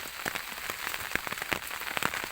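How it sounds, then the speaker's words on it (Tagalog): Rain falling at a fishing spot, close patter of drops hitting a surface with sharper individual taps, steady throughout and without speech. "Maulan sa spot oh."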